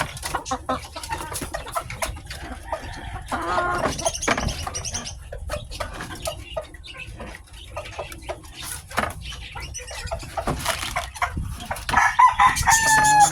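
Chickens at feeding time, steady clucking and scratching with a rooster crowing, a lively farmyard din close by with no talk.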